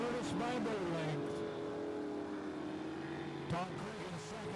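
Hydroplane race boat engine at the Pateros Hydro Classic, a steady sustained drone with a harmonic whine that holds throughout, with a brief surge near the end, heard under continuous commentary.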